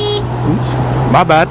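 A 2018 Honda CB1000R motorcycle gives a short, sharp horn beep over its idling engine hum in traffic, and the rider then speaks briefly.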